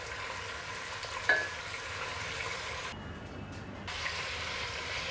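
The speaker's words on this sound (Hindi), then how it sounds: "फ्लेम को हाई करके अच्छी तरह से हम मटन को फ्राई करेंगे" Mutton for biryani frying on high flame in a pan, a steady soft sizzle with scraping stirs and one brief sharp clink, heard close and without talk.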